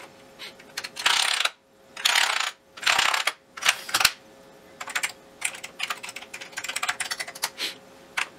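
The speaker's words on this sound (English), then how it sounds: "let's just see if all the keys work on the keyboard." Keys on an Amiga 1200 computer keyboard are pressed one after another in rapid clattering bursts, separated by short pauses, close and loud with no talk.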